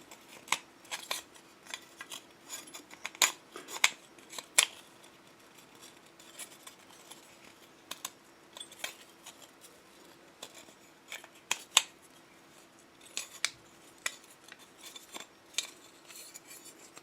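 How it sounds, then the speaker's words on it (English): Tin snips trim thin gasket material in a quiet workshop, making sparse, sharp metallic snips and clicks at irregular intervals over a faint steady hum. "tidy it up with a pair of tin snips"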